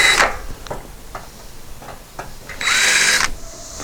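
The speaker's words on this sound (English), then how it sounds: "use a countersink bit and just knock those burrs off" A power drill with a countersink bit knocks burrs off holes in a cargo trailer door repair, giving short whirring bursts in a loose rhythm and ending with a longer, louder spin, close and loud.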